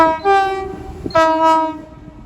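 A DRS Class 68 locomotive, 68018, sounds its horn at Watford Junction on the West Coast Main Line while hauling freight with Class 57 57309, two loud sustained two-tone blasts close by with a short gap between them.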